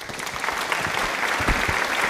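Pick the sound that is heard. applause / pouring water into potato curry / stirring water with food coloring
applause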